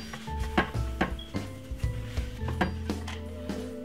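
Butter is rubbed by hand inside a metal baking tin, making close, rhythmic scraping and rubbing strokes with faint tinny knocks. Roughly a stroke every half second, moderately quiet, with no talking.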